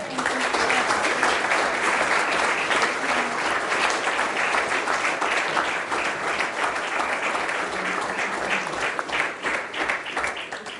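Sustained audience applause at a Kemijski inštitut Pregl awards ceremony, dense and steady clapping from a sizable crowd filling the whole stretch at an even, fairly loud level.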